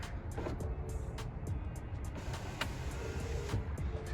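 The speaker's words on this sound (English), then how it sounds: "the window should be able to go up on its own." Electric power window motor on a BMW E90 raising the rear window after a regulator guide rail repair, a steady close whirring drone with faint clicks over a running car, held continuously for about four seconds.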